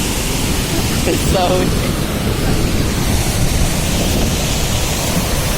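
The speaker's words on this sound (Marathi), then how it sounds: "लाटा बघा मित्रांनो जाम जोरात खवळ" Rough sea waves at Nandgaon beach in Konkan roar continuously as a loud, broad wash of surf mixed with wind buffeting the microphone, with a brief voice early on.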